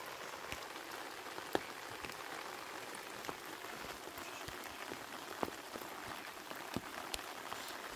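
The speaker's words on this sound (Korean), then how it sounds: "비가 점점 많이 옵니다." Rain falls outdoors in a garden, a faint continuous patter with scattered sharper drops ticking irregularly against nearby surfaces.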